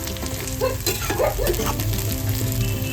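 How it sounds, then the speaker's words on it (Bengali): Onions and chopped chillies frying in oil in a pan while making a fish chop filling, giving a steady close sizzle with soft stirring scrapes throughout. "দেখুন পেঁয়াজ আর লঙ্কাটা আমি ভাজা ভাজা করে নিয়েছি"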